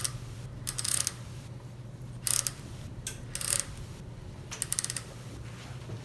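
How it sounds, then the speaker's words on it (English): An A2K bicycle hub assembly with greased threads being screwed in clockwise, short bursts of faint metallic clicking and ratcheting that come in irregular clusters, close up against a low steady hum. "Thread the assembly clockwise"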